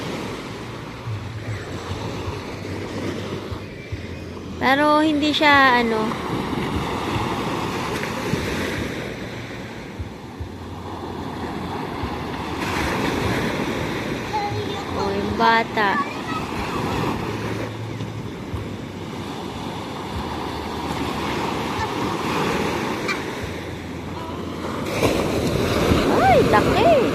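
Ocean waves wash onto a beach in a steady broad rush with wind noise, while people chat over it in Filipino and a voice rises briefly.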